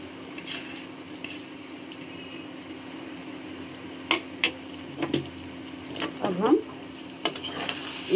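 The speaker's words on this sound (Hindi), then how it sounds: "तब तक पकाएंगे जब तक प्याज हमारा सॉफ्ट ना हो जाए" Chopped onions softening in a pan for Bengali macher dimer kosha (fish roe curry), with a low steady sizzle and occasional clacks of stirring and a spatula scraping, no voices.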